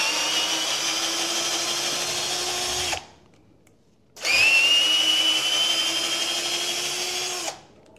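Titanium 12V cordless drill whirring steadily at its slow speed 1, two sustained runs of about three seconds each separated by a short pause, close and loud, with no talking.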